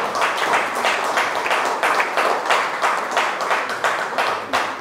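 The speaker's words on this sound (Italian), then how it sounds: "chiederei un applauso al dottor Gatti" Steady, close clapping from an audience applauding Dr. Gatti at a local gathering in Valsabbia, continuous and fairly loud throughout.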